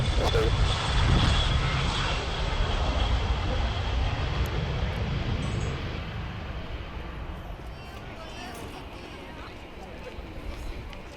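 Avro Vulcan XL426 jet bomber on a fast taxi run at London Southend Airport, a loud broad jet roar that fades gradually as the aircraft moves away.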